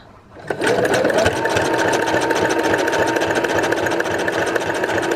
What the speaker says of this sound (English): use your backward stitch setting to stitch a few backward stitches just to secure it